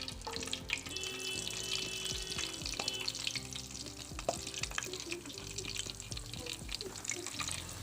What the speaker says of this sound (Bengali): এখানে আমি তেল গরম করতে দিয়েছি আর তেলটা গরম হয়ে গেছে আর বেগুনটা আমি এবার তেলের মধ্যে দিয়ে দেবো